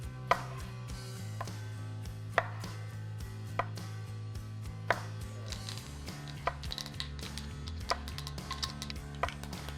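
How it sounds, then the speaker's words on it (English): A knife chops fresh vine tomatoes into quarters on a board, with sharp irregular knocks spaced about a second apart over quiet background music and no speech. "Quarter or roughly chop these tomatoes."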